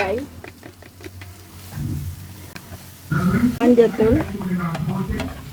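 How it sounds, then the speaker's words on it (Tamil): Onions sizzle and fry in a pan while a spoon stirs and scrapes, with someone talking over the cooking sounds. "இப்போ லைட்டா கிளறிக்கலா"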